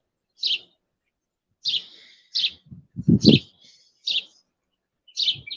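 Birds chirp outdoors in short bursts of bright tweets, about six separate calls spread across the stretch, with a lower cooing or throaty call in the middle, fairly near and clear against a quiet background.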